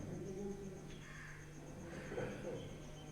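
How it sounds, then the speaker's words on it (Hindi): Birds calling faintly in the background, soft cooing and brief chirps over a steady low hum, with a voice speaking quietly. "चिड़िया अब चहचहा रही हैं"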